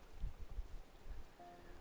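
Rain falling in the city of Ul'dah in the video game Final Fantasy 14, a faint, soft patter with a few low thumps, quiet and brief.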